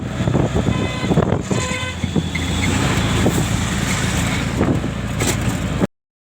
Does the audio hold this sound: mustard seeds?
no